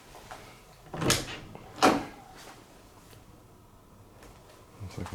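A storage closet door in a model home's sales office is opened, making two distinct sharp knocks or clunks about a second apart, followed by quiet room tone.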